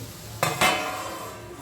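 Green tomato vegetable is stirred in a kadhai, with two quick metallic scrapes of a spoon against the pan over a soft background sizzle.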